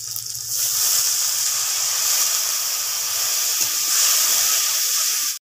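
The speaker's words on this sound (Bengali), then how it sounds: "সামান্য জল" Water poured into a hot pan of fish curry with chili and turmeric powder, bursting into a loud, steady hiss of sizzling and steam that runs close and unbroken for several seconds.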